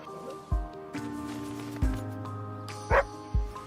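A dog barks in a video game, four short sharp barks spaced about a second apart over soft game background sounds.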